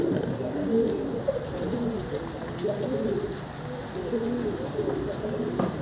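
Pigeons in a breeder's loft cooing continuously, several birds overlapping in soft throaty rolling calls, close and steady throughout.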